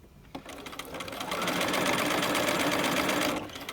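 A sewing machine stitches piping along a pocket line at a short stitch length, starting with a brief stutter and then settling into a steady, close, continuous mechanical whir with no talking.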